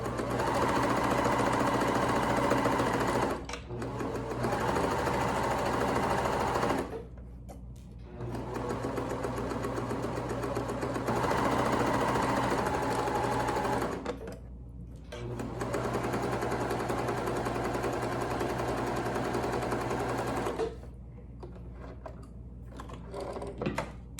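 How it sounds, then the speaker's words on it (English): A sewing machine zigzag-stitches down the long side of fabric for a neck gaiter. Close, loud, rapid mechanical chatter comes in several long runs, broken by brief pauses and slower stretches. "We're going to just sew all the way down."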